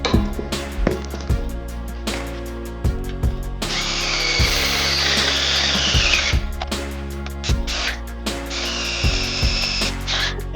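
A 12.5mm drill bores bolt holes for a boat trailer, loud steady grinding in two long runs broken by clanks and knocks of metal being handled nearby.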